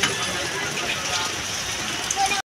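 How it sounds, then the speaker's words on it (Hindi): Heavy rain pours down in a steady, dense hiss throughout, close and fairly loud, cutting off abruptly at the end. "बहुत तेज़ हो रही है बारिश"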